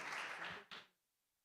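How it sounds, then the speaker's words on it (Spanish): Applause from a church congregation welcoming a speaker, a dense burst of clapping that fades out within about a second. "Vamos a darle un fuerte aplauso."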